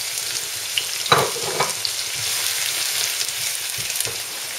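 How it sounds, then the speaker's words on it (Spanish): Chopped onion sizzling as it hits oil that is just heating in a pan for a sofrito. A sharp burst of frying is followed by a steady, close crackle with scattered pops, and there is no talk. "cuando el aceite esté empezando a estar caliente, ponemos la cebolla"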